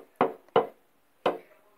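Three sharp, hollow knocks on a taut drum-like surface, two close together and a third after a pause, loud and near with no voices.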